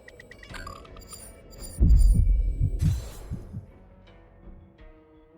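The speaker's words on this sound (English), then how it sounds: "That heartbeat was sinister." A sinister heartbeat effect in the video game Honkai: Star Rail thuds in a cluster of deep, heavy pulses over a dark ambient drone, then fades out beneath sustained tones.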